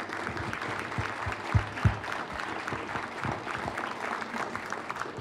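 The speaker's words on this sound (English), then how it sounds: "I just want to have one more round of applause for the amazing 9th and 10th grade orchestra from White Bear Lake High School" An audience at a high school visual arts awards event claps for the 9th and 10th grade orchestra from White Bear Lake High School, moderate steady clapping with a few louder low thumps early on.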